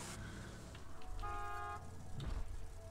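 Car horn honks at a gate in Borderlands 2, one clear sustained toot rising over low vehicle engine rumble, fairly close.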